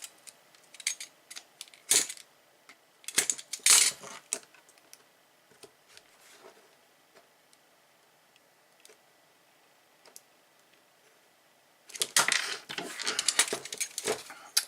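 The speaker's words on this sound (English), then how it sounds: "I'm just trying to cut the little tabs off that hold these things closed" Plastic tabs on a laptop battery pack are cut and pried with a tool, giving sharp clicks and snaps in short bursts, some long quiet gaps, then a dense flurry of crackling clicks near the end, close.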